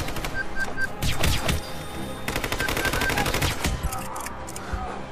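Rapid bursts of automatic gunfire in the video game Hitman: Absolution, loud and close, with a dense volley in the middle, thuds and game sounds between the shots.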